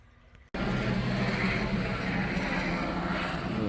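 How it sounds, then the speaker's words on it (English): Helicopter flying overhead: a quiet background suddenly gives way to a loud, sustained, broadband engine and rotor roar that holds steady. "a movie with helicopter sounds in the background and everything"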